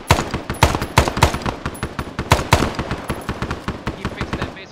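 Rapid gunfire from a military training field exercise in Vietnam-era style, with dense overlapping bursts and single cracks firing continuously at close range, loud and sustained throughout.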